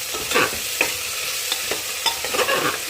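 Chicken curry with garlic paste and chopped ginger is stirred in a pan over a raised gas flame, spoon scrapes and knocks recurring irregularly over a steady close sizzle.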